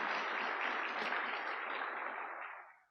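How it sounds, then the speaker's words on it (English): An audience at an evening scholarship ceremony gives a steady round of applause, a dense, even wash of many hands clapping that holds for a few seconds and then fades out quickly. "So a round of applause for them as well,"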